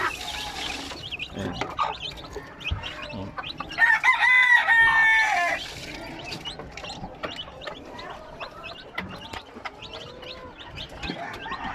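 Fighting cocks and chicks crow and cluck while being fed, with one loud drawn-out crow in the middle amid scattered nearby clucks and scratching, fairly close and uneven in rhythm.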